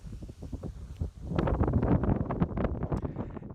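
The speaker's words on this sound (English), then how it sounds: "It's a little bit windy, but it's a fantastic spot." Wind gusts buffet the microphone at a boat anchorage, a steady broadband rush that swells louder after the first second and stays close and blustery throughout, with other boats moored nearby.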